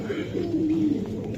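Close by, a Giribaz pigeon gives one drawn-out, throaty coo over the low chatter of other birds in the loft.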